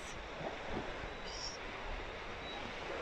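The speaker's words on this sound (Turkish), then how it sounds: "Şu an dalgalı deniz." Rough, choppy sea off Büyükada island, a constant faint wash of waves mixed with wind noise, heard from a distance.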